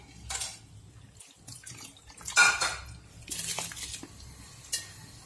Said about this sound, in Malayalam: അരി അതിലേക്ക് ഇട്ട് കൊടുത്തിട്ടുണ്ട്.